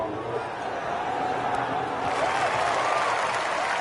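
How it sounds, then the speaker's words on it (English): Golf fans applauding and cheering a shot in a live golf game, a steady wash of crowd applause and cheers throughout, with a voice talking over it. "I'm sure you can hear the way the fans are cheering me there."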